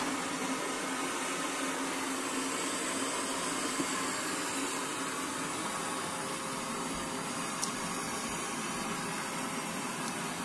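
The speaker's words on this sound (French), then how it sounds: "ça devrait être le meilleur test possible donc pour voir si tout va être bien aspiré" LEJOY LD20 robot vacuum cleaner working over a rug and ceramic floor, a steady close whooshing suction hum with a faint whine that stays even for ten seconds, with no one talking.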